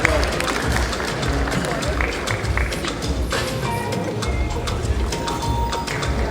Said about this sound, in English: A round of applause for her as well.